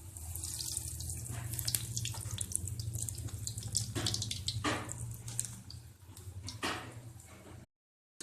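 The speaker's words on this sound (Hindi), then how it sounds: "ऑयल यहाँ पर गरम है। इनको गोल्डन सा फ्राई करेंगे।" Potato lollipops deep-frying in hot oil give a dense, steady sizzle with crackling bursts that runs close and loud for most of the clip before cutting off into silence.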